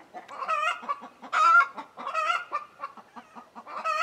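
Hens cluck in a series of short, bright bursts close by, a few birds overlapping in an uneven, chattering rhythm with quiet pauses between calls.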